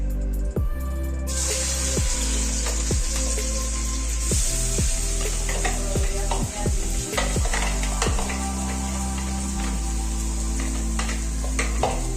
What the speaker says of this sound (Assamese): এইখিনি অলপ দেৰি ভাজি ল'ম মানে আদা আৰু নহৰু